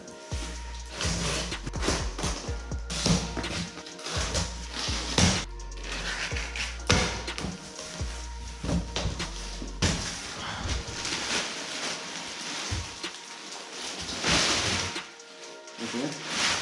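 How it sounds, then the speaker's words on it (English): Cardboard delivery box holding a Rynox riding jacket being opened up close, with a long run of scraping, tearing, rustling and thumping handling noises. "now let's open up this box and let's see what's inside this."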